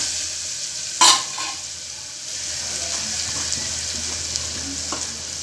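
Paya soup ingredients with homemade garam masala being stirred in a pan, a steady close sizzle with one sharp metallic clang near the start and soft scraping after, no talk.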